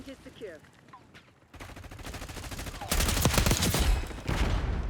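Black Ops 6 gameplay with a GPR 91 assault rifle: after quieter game sounds, loud rapid automatic bursts fire close up and continue in long strings.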